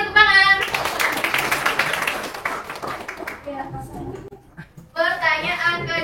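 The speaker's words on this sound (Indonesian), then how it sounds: "Oke, tepuk tangan." A classroom of students claps hands together in a short burst of applause, with children's voices before and after the clapping.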